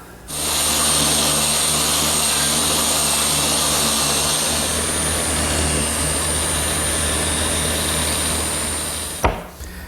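Power sander works steadily across a chestnut desk top, a loud continuous whirring roar for most of the pass before cutting off near the end.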